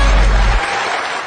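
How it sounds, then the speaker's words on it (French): Audience applause at the final of an Ivorian quiz show, a dense burst of clapping and cheering that fills the room and tails off slightly. "On applaudit pour eux, les gars."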